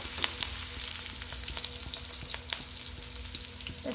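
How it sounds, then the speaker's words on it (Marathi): Onion goes into a pan with crackled cumin seeds, and a steady close fry hiss runs under rhythmic spatula scrapes and taps, with no one speaking. "कांदा टाकायचा. कांदा व्यवस्थित परतून घ्यायचा."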